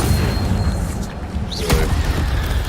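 An Incendio fire spell is cast in Hogwarts Legacy, a loud whooshing burst of flame over a dense, continuous rumble of game sound, with a sharp crackle midway.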